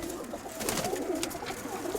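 Soft, low pigeon cooing repeats steadily in the background, with faint rustling and ambient noise around it and no talking.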